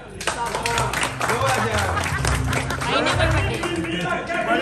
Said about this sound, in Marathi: परत एकदा वैशाली पाटील टाळ्या होऊ द्या.